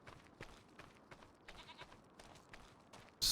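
Goat bleats from Farming Simulator 25 on a farm, with a baby goat frolicking nearby: a string of faint, short repeated bleats at a steady pace, then a sudden loud burst at the very end.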